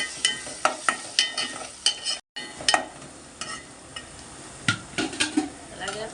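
Crushed garlic stirred into a frying pan for a brinjal and mango curry: a sizzle under repeated sharp scrapes and taps of a spoon against the pan, close and irregular, with a brief gap partway through.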